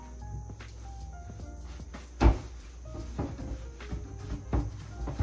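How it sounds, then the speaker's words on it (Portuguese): Kitchen cabinet doors and drawers are opened and handled during house cleaning, giving a series of wooden knocks and thumps with a sharper bang partway through, against quiet background rustling. "Eu abro também assim as portas para poder passar nas beiradas"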